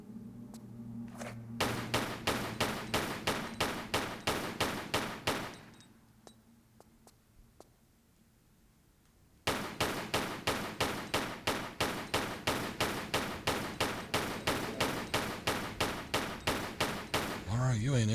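Gunfire in the remastered Tomb Raider IV–VI games: rapid, evenly spaced automatic shots in two long bursts separated by a brief quiet gap, loud and close, with no talking over them.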